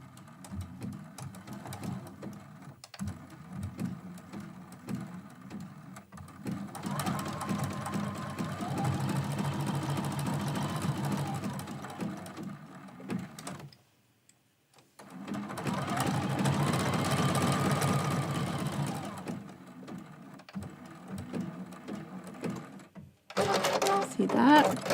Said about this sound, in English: I'm going to do a little back stitch just to help lock those stitches in place